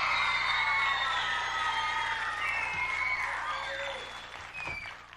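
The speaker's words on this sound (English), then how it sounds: "Round of applause for them." A studio audience at a 1986 Double Dare kids' game show applauds and cheers, with high whoops and yells riding over steady clapping that slowly fades toward the end.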